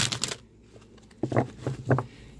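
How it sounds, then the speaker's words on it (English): A deck of Doreen Virtue Romance Angels oracle cards gets a quick Vegas-style riffle shuffle, a few short crisp bursts of flapping card noise, close and fairly soft, with no voice over it. "Do a little Vegas shuffle here"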